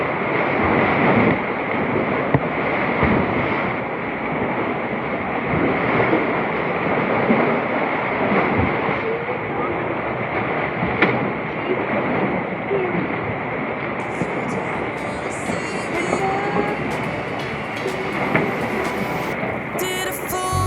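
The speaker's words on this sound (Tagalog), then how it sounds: "Sobrang lakas kasi ng alon kasi sama ng panahon." Rough sea waves during bad weather near Coron, Palawan produce a loud, continuous roar and rushing wash close to the microphone, with faint buffeting throughout and a brighter layer of noise entering toward the end.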